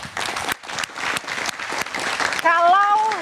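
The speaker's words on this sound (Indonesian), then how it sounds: "Tepuk tangan dulu dong." Audience applause rings out at a political event about a party chairman's declaration, with dense clapping under a speaking voice, then rising to a louder burst near the end as music swells in.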